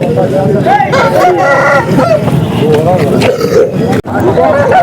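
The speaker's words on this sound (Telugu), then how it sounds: "ఇండోర్ సంతలో ఇట్లా పుంజులంతా ఉంటాయి" Roosters at the indoor Punganur rooster market crow repeatedly and loudly nearby, overlapping with clucking and a background babble of people talking.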